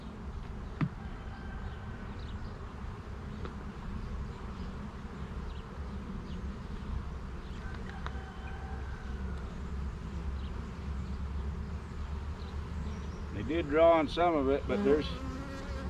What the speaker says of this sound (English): a lot of bees in this box.